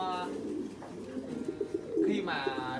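Pigeons coo in caged breeding pens on an industrial-style pigeon farm, low soft calls rising and falling beneath someone talking close by.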